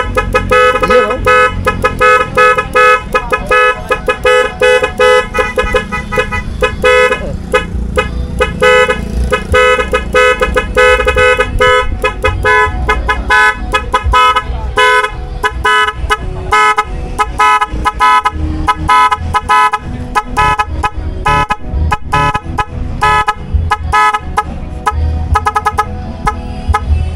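A loud aftermarket 12-tone horn on a Yamaha Nmax V2 scooter blares right at hand, cycling through shifting electronic siren and honking tones in rapid patterns for close to half a minute, with no talking.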